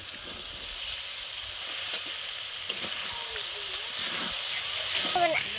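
Steady hiss of steam rising from a pan of cabbage and peas cooked with mung dal once the lid comes off, a broad even rush with faint scraping and soft kitchen clatter underneath.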